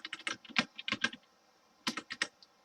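Rapid bursts of keystrokes on a computer keyboard, clustered in two quick runs separated by a short pause, close and clear with no voices.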